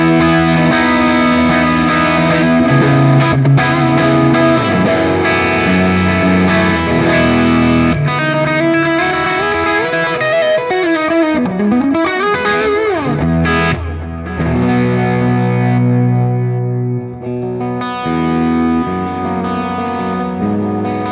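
Distorted electric guitar played direct through a NUX Solid Studio with an EL84-style power amp voicing, reverb and delay, a continuous loud melodic passage with bends and sustained notes trailing into clean echoing tails, no talking.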